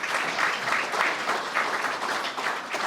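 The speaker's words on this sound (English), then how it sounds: "A round of applause for them, please." Steady, full applause from a chamber of commerce breakfast crowd, dense clapping sustained evenly throughout with no pause.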